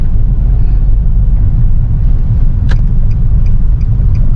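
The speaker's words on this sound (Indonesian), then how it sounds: "Saya akan melakukan POV driving untuk impresi test drive mobil ini seperti apa." Low, steady engine rumble and road noise from inside a moving 2013 Nissan Evalia minivan with automatic transmission, with a brief sharp click partway through.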